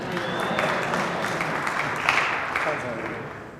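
Dense, continuous applause from a large audience at an awards ceremony, steady and fairly loud throughout, with a slight fade at the end.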